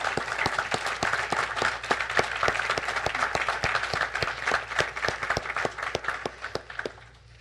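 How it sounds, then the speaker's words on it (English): Audience applause for first responders at a fall academy kick-off event, steady dense clapping from a crowd lasting several seconds before tapering off at the end. "let's give them a big round of applause."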